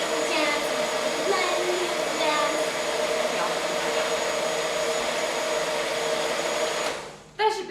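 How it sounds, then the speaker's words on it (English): A Magic Bullet blender whirs steadily and loudly while frothing coffee with almond milk, its high motor whine running continuously for about seven seconds before cutting off, followed by a brief clatter. "You want to blend it for quite a while so it's nice and frothy."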